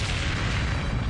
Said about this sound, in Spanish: Se produce otra explosión